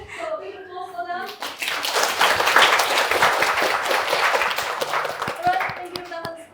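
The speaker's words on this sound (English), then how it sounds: "So big applause for them." A classroom audience of children claps for a group of students after their presentation, a dense burst of applause rising after brief talk and fading out near the end.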